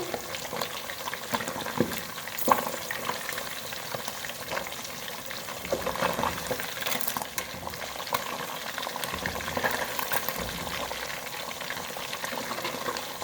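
Fish pieces shallow-frying in hot oil for a spicy masala Lahori fish fry, a steady dense sizzle running throughout with a few small pops and clinks of turning the pieces.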